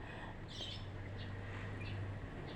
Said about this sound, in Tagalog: huni ng ibon lang maririnig mo